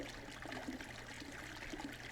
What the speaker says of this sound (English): listening to the soft noise of the water pooling from the fountain